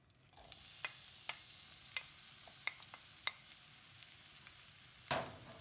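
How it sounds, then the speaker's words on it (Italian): Zucchini slices and a garlic clove frying in a little olive oil, a faint continuous sizzle broken by light utensil taps and one louder clatter near the end. "Rosolare uno spicchio d'aglio con un po' di olio. Aggiungere le zucchine tagliate con la mandolina."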